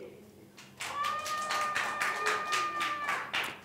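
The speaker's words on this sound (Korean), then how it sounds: "우레와 같은 함성과 박수 정말 감사드립니다." An audience claps in a run of sharp, evenly spaced beats, loud and close, while a voice rises over the clapping with a drawn-out cheer.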